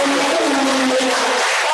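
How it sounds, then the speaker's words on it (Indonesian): An audience in a classroom session on writing broadcast scripts breaks into loud, continuous clapping that fills the whole moment without a pause. "Kasih aplaus untuk"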